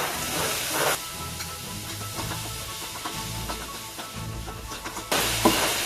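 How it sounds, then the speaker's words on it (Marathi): Chopped tomato hits browned onions in a hot pan for a Konkani fish curry, bringing a steady, fairly loud sizzle and steamy hiss with a brighter burst of frying near the start and again at the end. "आता यामध्ये आपण आपला टोमॅटो जो चॉप केलेला आहे तो टाकूया कांदा ब्राऊन झाला आहे"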